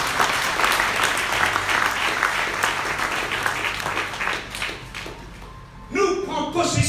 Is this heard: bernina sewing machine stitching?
no